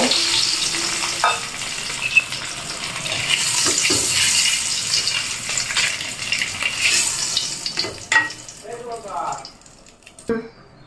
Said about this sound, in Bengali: ডিমগুলো হালকা লাল করে ভেজে নিব।